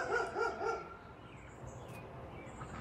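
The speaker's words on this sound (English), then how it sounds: "My dogs are chasing a chipmunk." Dogs bark several times in quick succession outdoors as they chase a chipmunk, moderately distant, and then fall quiet, leaving faint ambient background.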